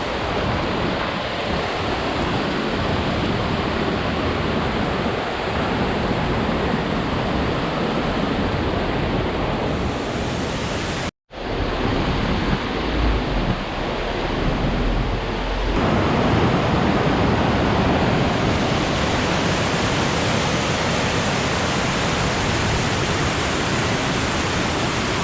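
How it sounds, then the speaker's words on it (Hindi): Ravana Waterfall in Ella pours down fast and heavy, a loud continuous broadband roar close by that holds steady throughout, broken only by one brief dropout partway through. "पानी की जो वेलोसिटी है वो बहुत ज़्यादा फास्ट है।"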